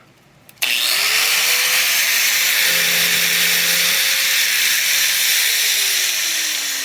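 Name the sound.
angle grinder running off solar power inverter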